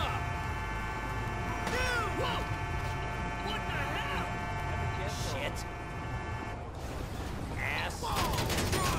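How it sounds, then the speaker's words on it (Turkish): Bursts of police gunfire aimed at vehicles in the video game GTA V, rapid rattling volleys repeating over a steady game soundscape, with someone talking throughout. "Onlar sıkıyor."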